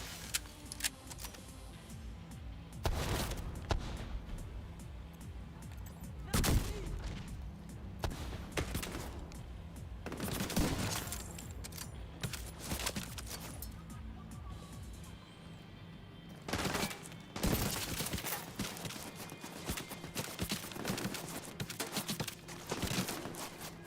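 An automated turret fires repeatedly at enemies in Tom Clancy's The Division 2, sending loud, irregular bursts of shots over a busy game soundscape.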